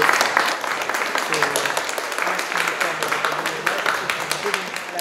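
A room full of people at a film school exhibition in Łódź applauds steadily, a dense wash of clapping with no words spoken, continuing throughout.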